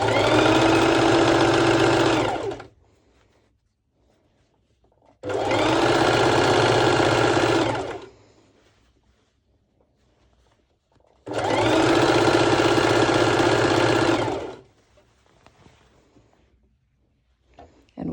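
A sewing machine top stitches fabric for a cover-up dress with a triangle top, running in three loud, even bursts of about three seconds each, separated by near-silent pauses.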